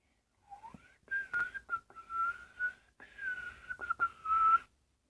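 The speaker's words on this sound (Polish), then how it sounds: "Nie umiem gwizdać." A person attempts to whistle, producing a wavering, slightly unsteady tone in several short phrases with brief breaks between them, close and clear, with no talk.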